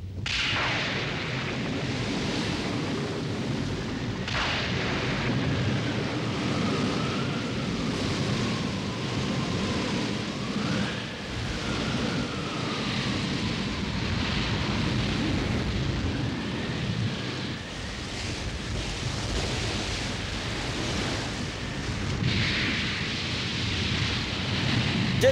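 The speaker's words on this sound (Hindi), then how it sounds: "ये तूफान आने का संकेत है।" Storm at sea with heavy rain and rumbling thunder, a dense, steady roar that holds strong and loud throughout with no voices.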